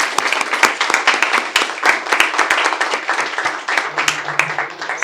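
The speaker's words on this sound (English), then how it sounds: "Let's give a round of applause." Audience applause fills a hall at an alumni award celebration during homecoming, steady dense clapping throughout with a few louder sharp claps standing out and a faint voice murmuring underneath.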